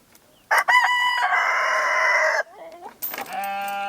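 A rooster crows loudly and close by in a long drawn-out call, followed by clucking and a second crow from chickens on a ranch.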